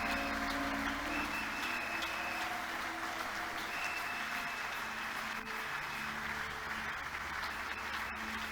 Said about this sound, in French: Celebrate God with your claims, with your applaud.